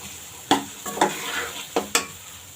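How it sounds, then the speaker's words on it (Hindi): Chickpeas with onion and garlic stir-fried in a pan, a soft sizzle broken by four sharp scraping strokes of the spoon spread across the moment, close by and alone with no talk. "चने की बुनाई हो रही है।"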